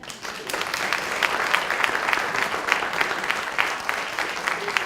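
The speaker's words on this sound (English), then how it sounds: "Give him another round of applause" An audience applauds after a poetry reading at a literary expo: a moderate room full of clapping, distinct individual claps standing out against a steady patter, sustained evenly for several seconds.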